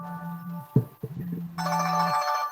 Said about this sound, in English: take this phone call.